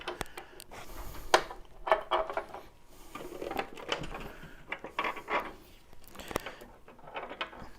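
A plastic cover is worked loose and pulled off a Square D Masterpact NW circuit breaker, giving a series of close clicks, knocks and rattling scrapes in uneven bursts.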